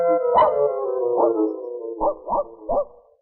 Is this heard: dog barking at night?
yes